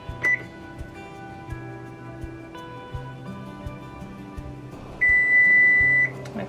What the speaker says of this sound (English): so I'm gonna set a timer for 1 minute.